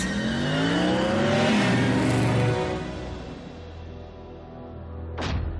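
Cartoon car engine of the robot Bumblebee revving and accelerating hard, a loud rising roar with a brief whoosh near the end, no talk over it.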